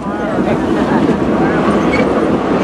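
Silver Dollar City train ride at an amusement park, the steady rumble and rhythmic clatter of railcars rolling along the track, loud and close, with voices mixed into the din.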